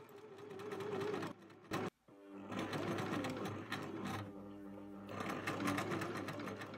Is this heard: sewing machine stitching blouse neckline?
yes